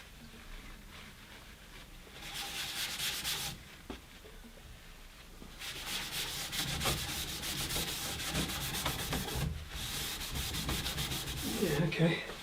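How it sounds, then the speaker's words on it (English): Sanding the underside of a piece of street-found furniture: two stretches of steady, close abrasive rubbing, a short one early and a longer sustained run, separated by a quiet pause and a soft knock. "to try sanding the underside of this just to see how it looks"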